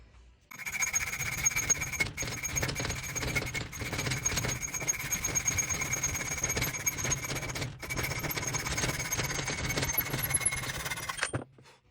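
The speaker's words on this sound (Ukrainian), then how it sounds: "Клапан ми обрізали." Hacksaw blade sawing steadily through a hardened engine valve, a continuous gritty rasp with sustained high metallic squeal over about eleven seconds, briefly pausing twice, loud and close.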